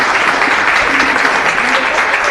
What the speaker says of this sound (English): let's just give these ladies another round of applause